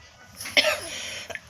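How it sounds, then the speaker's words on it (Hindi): A woman with a sore throat coughs sharply indoors, two or three harsh bursts close to the microphone with quiet gaps between. "आप देख सकते हैं मेरे खांसी कितनी जोर की आ रही है अभी तक"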